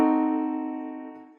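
A fully diminished seventh chord struck once and left to ring, a rich sustained tone that slowly fades over about a second and a half, alone and close.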